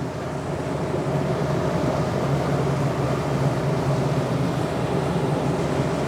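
A motorboat's outboard engine drones steadily while the boat runs on a river, a constant loud rumble with water wash and no pauses.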